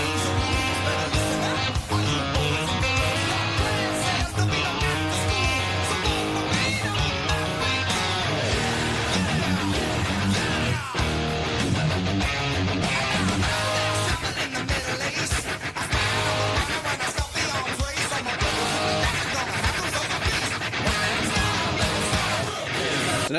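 A distorted electric guitar plays the second verse of a song in a dense full-band mix with driving rhythm. It is loud and continuous throughout, with no clear speech.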